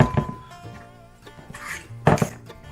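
A Corningware bowl is handled in a kitchen, with a few sharp clinks and knocks of dishware against a counter separated by quieter gaps, close and alone.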